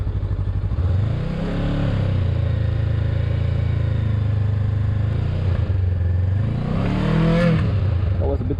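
Motorcycle engine, a Honda CB500X or Kawasaki Ninja 400, idling low and steady close by during a slow full-lock U-turn, with brief blips of throttle rising and falling twice and a voice talking over it.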